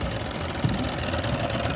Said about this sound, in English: As you can see, the engine's running great.